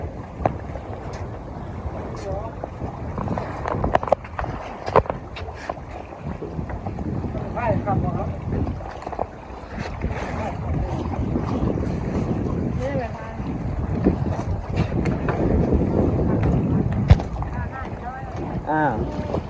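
A boat crosses the Mekong River, its engine droning and water churning continuously under heavy wind buffeting the microphone, with intermittent voices talking nearby throughout.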